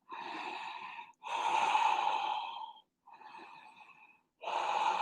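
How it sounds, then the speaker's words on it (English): Four long, deep, breathy exhales during a yoga session, close and audible, separated by short silent pauses. "Deep exhales."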